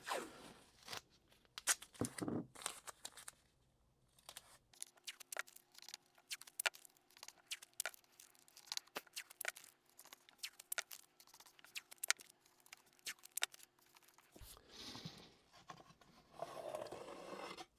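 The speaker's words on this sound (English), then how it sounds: "And now I'm just going to add the tape." Packing tape is pulled and pressed across a row of kitchen knives laid against a straight edge for a rotating magnetic knife block, giving quiet ripping, crinkling and tapping sounds in irregular bursts, with no talk.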